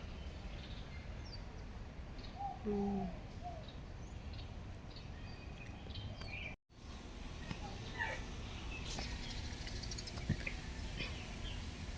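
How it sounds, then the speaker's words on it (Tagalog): Birds calling in Kowloon Walled City Park, Hong Kong, with a brief cluster of cooing, pigeon-like notes early on, then sparse faint chirps over a steady outdoor ambient hum. "Ang lalaki ng ibon."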